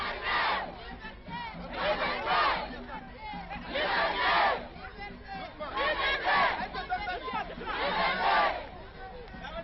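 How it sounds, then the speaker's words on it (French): A crowd of demonstrators cheering and chanting for Malian coup leader Moussa Traoré, in loud rhythmic waves of massed voices that swell and fade about every two seconds, recorded on old archive audio. "nous verrons des manifestants venir l'acclamer, lui et ses camarades, à la permanence de l'ancien parti unique"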